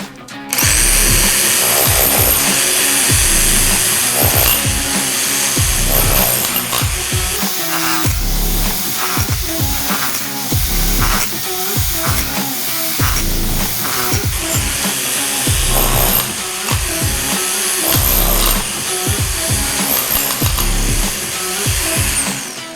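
A rotary hammer grinds and chatters in loud, repeated bursts, biting into firewood with steady pulses and brief pauses, close by and without talk.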